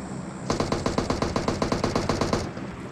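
Rapid automatic gunfire in the PUBG video game, a steady burst of about twenty evenly spaced shots lasting two seconds, loud and close, with no talk over it.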